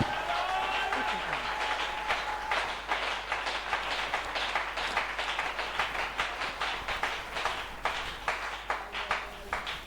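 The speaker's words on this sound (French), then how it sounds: "Acclamez pour la parole de Dieu" A church congregation at a tabernacle service claps in a steady burst of applause, many hands beating fast and fairly loud, with a voice speaking over the start.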